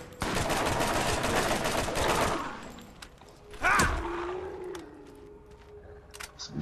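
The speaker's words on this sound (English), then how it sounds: "SMG." SMG fire from Borderlands rattles off in a fast, loud burst of rapid shots for about two seconds, followed by a sharp impact and quieter game sounds.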